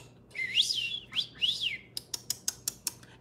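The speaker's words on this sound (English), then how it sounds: "Those are good birds." Birds chirp outside a pet-friendly hotel, starting with a run of rising and falling whistled calls and ending in a quick, evenly spaced series of sharp chirps, fairly close and clear with no talk.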